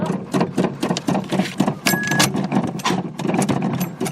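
A full-frame metric GM car engine cranks over with a dense, rapid, rhythmic starter churn that runs steadily throughout, loud and close, with no voices over it.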